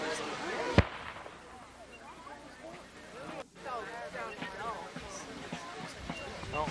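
A single sharp boom from a cannon at a 1992 Civil War battle reenactment at Perryville, Kentucky, near and loud, followed by people talking and ambient outdoor noise.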